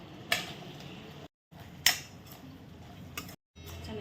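Paneer chilli with spring onion and coriander being tossed in a pan, a spatula giving a few sharp metallic scrapes and knocks over a steady background hiss, broken by brief moments of silence.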